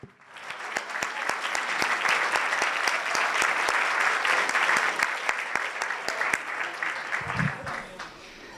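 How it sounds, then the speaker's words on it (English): An audience breaks into applause that swells quickly, holds as a dense, even roar of clapping with a few sharp claps standing out, then begins to thin. "we'll give you a big round of applause"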